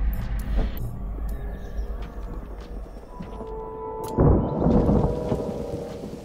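Steady rain falls through a thunderstorm in the video game Mind Over Magic, with a deep rolling thunderclap breaking in loudly toward the end over the continuous downpour.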